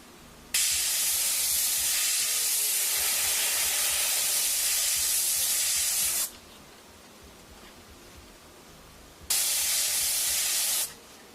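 An airbrush sprays a light dusting of paint in two hissing bursts, a long steady one of about six seconds and a shorter one after a pause, close and loud with no talking.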